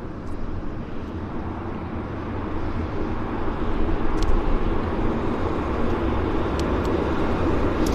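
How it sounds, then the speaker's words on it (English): A WestJet airliner bound for Calgary departing Vancouver Airport, a broad steady roar of jet engines rising slightly in loudness, heard from a distance over constant low rumble. "heading out as our next departure, we got a WestJet"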